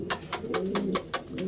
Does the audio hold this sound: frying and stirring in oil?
no